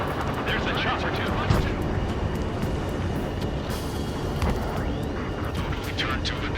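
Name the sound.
helicopter in Ace Combat 7 video game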